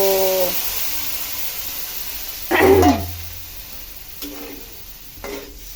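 Food fries in a pan with a faint steady sizzle, broken once by a short scrape of stirring midway and two softer clinks later, with no voices.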